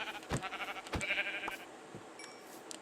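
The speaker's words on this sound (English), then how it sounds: "Probably go kill those sheep so we can make a bed" Sheep in Minecraft bleat a few times in short wavering calls, fairly close, then fade, with faint game clicks and tones near the end; no talk.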